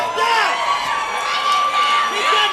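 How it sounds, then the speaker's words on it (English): A crowd at a mixed martial arts event cheers and whoops briefly for a female fighter, loud and close with a dense roar of voices throughout. "Crowd gives a little pop for Marissa Caldwell"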